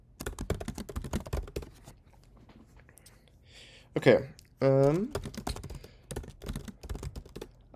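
Rapid clicking on a computer keyboard during command-line Python programming, close and busy bursts of keystrokes with a pause in the middle where someone speaks briefly.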